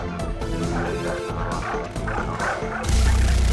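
Dogs barking and yipping in the video game Far Cry 3 Blood Dragon, repeated sharp barks over a busy game soundscape, with a loud blast near the end.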